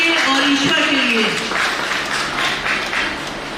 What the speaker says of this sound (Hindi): तो एक बार जोरदार तालियां हो जाए आपके लिए